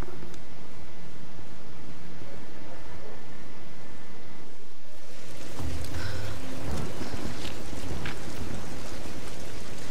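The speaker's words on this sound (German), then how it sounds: "Wir nähern uns dem Sturm." Heavy rain pours in a storm in the video game Tomb Raider, a loud steady wash that surges into a deeper, rumbling roar of thunder and pounding water about halfway through; no talking.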